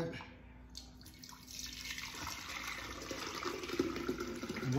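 Homemade fermented pineapple tepache poured and strained, a continuous trickling liquid stream that grows steadily louder, close up with faint background voices.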